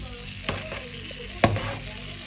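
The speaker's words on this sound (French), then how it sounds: "là je viens de mettre mon beurre. Je vais laisser fondre mon beurre pendant 3, 4, 5 minutes." Butter melting in a frying pan for mushroom sauce gives a steady soft sizzle, broken by two brief clacks from a utensil against the pan, close and without talk.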